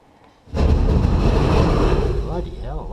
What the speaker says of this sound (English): Ice coming off the roof